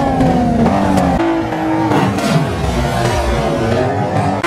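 Koenigsegg car engine in a crash test, a loud, close revving roar with shifting pitch that stays strong for the whole few seconds.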